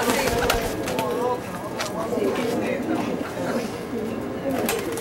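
A young pigeon coos at a training loft, soft repeated throaty coos close by, mixed with someone talking and a few sharp knocks.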